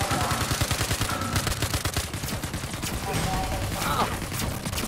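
Dense rapid gunfire in the Star Citizen video game, a sustained rattling volley of shots throughout, with a voice talking faintly underneath.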